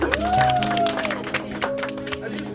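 An audience breaks into applause, with scattered claps and crowd noise over a steady tone, loud and close at first and then thinning out.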